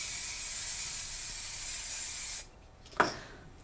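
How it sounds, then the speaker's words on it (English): A can of frosting spray hisses continuously onto window glass for a couple of seconds, a steady close aerosol rush that cuts off sharply and is followed by a faint short scrape or tap. "you can use a spray like this, which is just a frosting spray, and you can spray it on"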